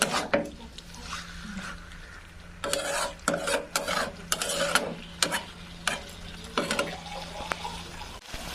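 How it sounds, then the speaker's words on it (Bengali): Boiled ash gourd pieces being stir-fried with spices in a pan for a curry, with irregular bursts of sizzling and repeated scraping, clattering stirs of a spatula, close and moderately loud. "সেদ্ধ করে রাখা চাল কুমড়োগুলো দিয়ে দিব। কিছুক্ষণ ভালোভাবে কষিয়ে নিব।"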